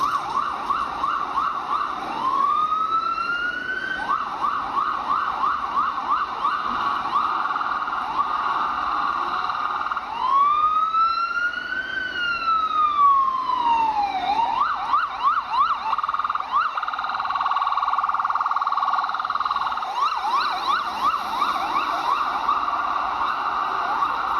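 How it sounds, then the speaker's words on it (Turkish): An emergency siren wails loudly in Shanghai, alternating between rising-and-falling sweeps and rapid yelping cycles, with traffic rumble underneath and no speech. "yani sireni çalıyor"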